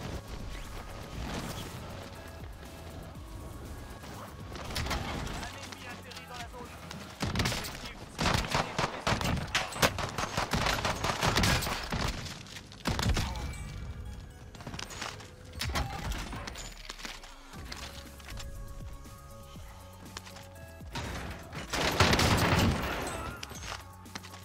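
Shotgun blasts from a SPAS-12 (Gallo SA12) in Warzone, heavy booms scattered across a busy game soundscape, some clustered in quick succession and a louder blast near the end.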